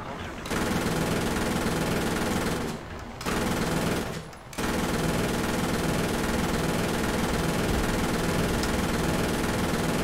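Anti-aircraft gunfire in War Thunder rattles in long continuous bursts, loud and steady, broken by two short pauses.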